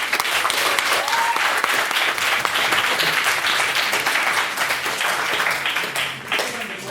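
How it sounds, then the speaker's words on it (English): Audience applause for a speaker at a Union debate on enforcing equal marriage in Northern Ireland, a dense, steady clapping from a large room lasting throughout and fading slightly at the end. "can we please have another round of applause for the Union speaker?"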